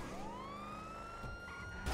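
Wailing police siren from a video game rises and holds a steady tone, heard clearly and alone at moderate level with no talk over it.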